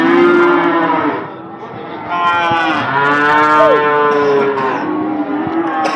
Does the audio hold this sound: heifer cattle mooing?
yes